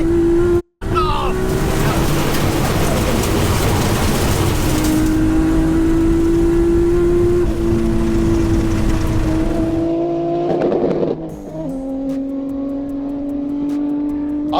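Nissan R32 GTR and Subaru Impreza racing, loud engines revving hard and climbing through gears close by, then easing off with a lingering engine whine and a passing roar near the end.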